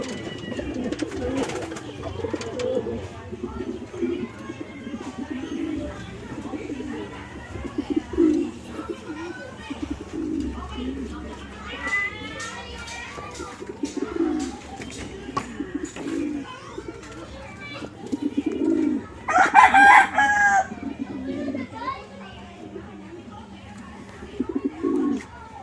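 Pet pigeons or doves coo repeatedly in a soft, rhythmic pattern at close range, with a few brighter chirps, while someone talks over the sounds.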